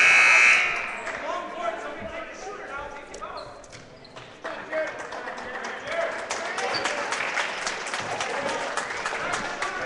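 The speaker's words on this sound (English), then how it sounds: "And a nice round of applause there for Haas as he comes off." Crowd applause fills a high school gym during a boys basketball game between Assumption and Barneveld as a player comes off the court, a steady, moderately loud wash of clapping and cheering with a brief buzzer-like tone at the start.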